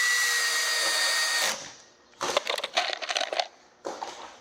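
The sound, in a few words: screwing metal rib panels onto a shed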